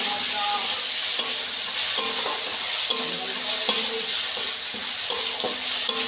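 Green chillies fry with already cooked onion and tomato in a pan, a steady close sizzle with regular soft knocks of a spoon stirring against the pan.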